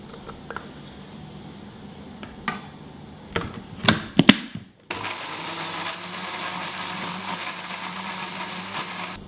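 Blender whirring steadily as it grinds soaked dried shrimp (ebi) with spices and oil for sayur ketupat, starting after a few knocks and clatters and running continuously to the end.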